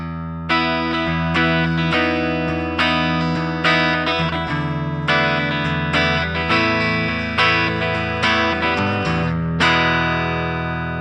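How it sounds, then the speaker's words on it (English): Electric guitar through the 1987 Jazz Clean amp model on a Line 6 Firehawk FX, unaltered, strummed chords ringing with rhythmic attacks about every second, full and warm with light effects, no voices. "it's the 1987 Jazz Clean. This is what the amp sounds like before we've done anything to it"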